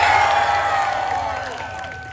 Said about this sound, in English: I think we can cheer louder than that, so let's try it now